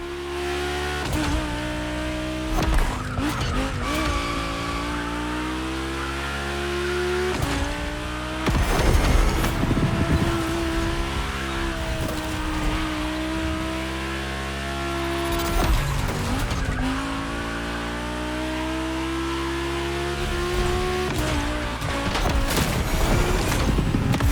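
Volkswagen race cars on track in The Crew Motorfest, engines howling and shifting through gears with repeated tire squeals and skids, loud and continuous with no talk.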